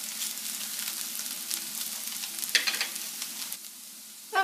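Diner-style home fries, already-cooked potatoes crisping in a pan, sizzle steadily with a few scrapes and stirring clatters, one sharper knock near the end.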